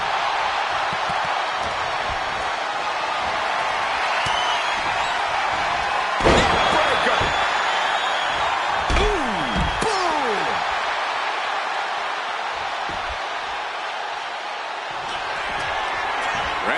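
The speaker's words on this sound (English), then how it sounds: "Wrenching the arm up and down with a choke slam." A choke slam lands in the wrestling video game WWE 2K25, one sharp, loud body impact on the mat partway through, set against steady arena crowd noise with a commentator talking throughout.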